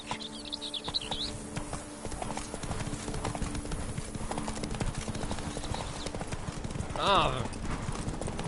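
Horse hooves clip-clopping at a steady riding pace in a PS4 video game, continuous rhythmic clopping under ongoing character dialogue, with a brief birdlike chirp.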